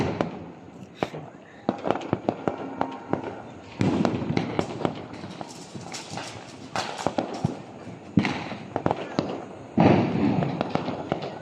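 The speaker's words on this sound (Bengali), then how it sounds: "স্টেশনের ওদিকে এদিকে একটা দিয়েছে ফটকি বম।" Firecracker bombs and fireworks bursting near a railway station during Diwali and Kali Puja celebrations in Dimapur, Nagaland: repeated sharp cracks and pops at irregular intervals, some close and loud, over crowd noise and voices talking.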